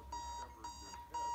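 Repeated electronic beeping alarm in the bomb-defusal video game Keep Talking and Nobody Explodes, three bursts of high tones sounding steadily over a constant background hum.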